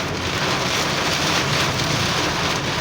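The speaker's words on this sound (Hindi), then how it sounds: "बड़ी बारिश है बड़ी" Heavy rain pours down in Mecca, a dense, continuous hiss of falling water at an even, moderate loudness, with no talking.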